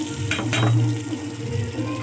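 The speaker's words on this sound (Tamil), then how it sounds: "நல்லா வதக்கி விட்டுக்கலாம்." Adamant creeper (perandai) sautés with tamarind in a pan, a soft steady sizzle with a couple of brief stirring scrapes near the start.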